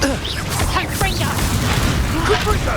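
Confringo blasting spell going off in the Hogwarts Legacy video game, a booming burst with crackling debris, layered over game voices and whooshing spell effects throughout.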